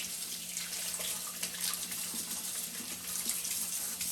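Tap water running steadily over juicer parts being rinsed in a sink, a soft continuous splashing hiss heard close and alone.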